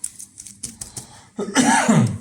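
A few soft clicks and taps, then a single throaty cough close by, rough and brief.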